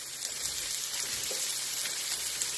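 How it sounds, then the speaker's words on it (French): Lardons frying in a pan give a steady, dense sizzle and crackle, close and even throughout with no talking. "Maintenant, je rajoute les lardons"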